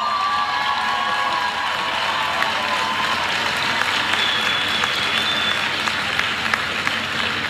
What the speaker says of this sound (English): as we all applaud you